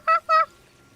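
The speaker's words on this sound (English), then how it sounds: "There's some weird sounding birds outside." Two loud, honking calls in quick succession from an outdoor bird with an odd, monkey-like quality, close and clear with nothing else heard.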